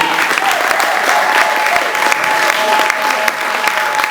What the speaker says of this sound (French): acclame très fort pour ton Dieu